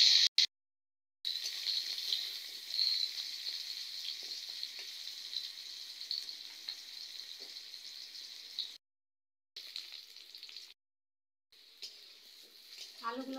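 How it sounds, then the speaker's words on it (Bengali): Potatoes fry in mustard oil in a wok, giving a steady, close sizzling hiss with faint crackles, broken by a few abrupt silent gaps. "আলুগুলো আমি লাল করে ভেজে নেব।"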